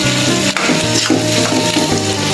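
Cumin powder sizzles in hot oil with curry leaves and mustard seeds, giving a loud, dense, continuous frying hiss close by, with faint stirring scrapes running through it.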